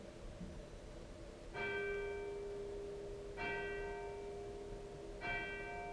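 Three evenly spaced strikes of a clock bell chiming the hour, each a resonant ringing tone that sustains and overlaps the next, heard at moderate distance in a quiet setting.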